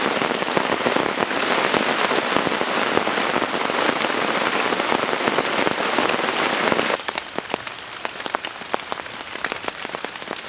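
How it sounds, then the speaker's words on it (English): Heavy rain in the Amazon jungle, a dense continuous roar of drops that stays loud, then eases to a lighter, sparser patter partway through. "I'm just sitting here and waiting for the rain to stop for about 2 hours now."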